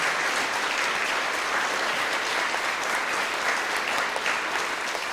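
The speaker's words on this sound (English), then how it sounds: "So can we have a big round of applause" An audience at a talk on Gaza gives a loud, sustained round of applause, many hands clapping evenly and densely throughout, with no speech above it.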